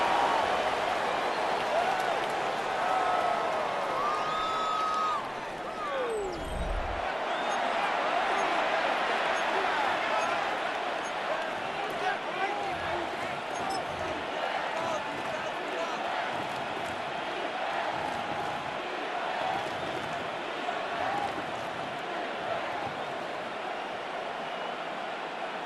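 Stadium crowd at an American football game, Rams at Eagles, a broad distant roar of spectators rising and holding steady across the whole stretch, with commentary in the background.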